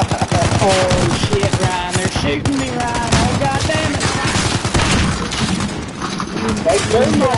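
Rapid gunfire bursts from Call of Duty crackle in quick succession, loud and close, with excited voices talking over much of it.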